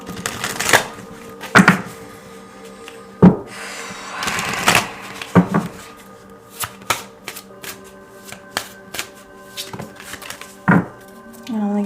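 A deck of oracle cards shuffled by hand, heard as a series of sharp riffling snaps and taps spaced irregularly, close and fairly loud, with occasional speech in between.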